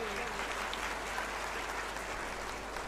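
An audience at a Gujarati motivational speech event breaks into steady, dense applause, an even wash of clapping heard from within the hall, moderately loud throughout with no voices.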